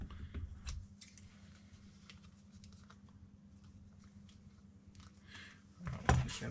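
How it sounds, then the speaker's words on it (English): Quiet snips and small crinkles of scissors cutting a windshield sticker for a De Pretto Moto windshield over a low hum, ending with a louder rustle up close. "Maybe it's easier to use the scissors instead."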